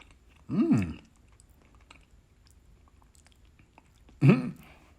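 Someone bites into a slice of banana pudding cheesecake, with two short soft chewing bursts separated by a quiet pause, close and fairly loud.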